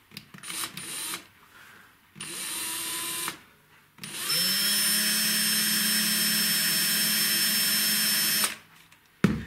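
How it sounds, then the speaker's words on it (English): A power drill bores into rivets on a Tri-ang Super 4 R.492/R.493 diamond crossing under restoration, running in several short bursts and then one long steady whine, close and loud, with brief pauses between runs. "hopefully my drill will stay central when I go to drill"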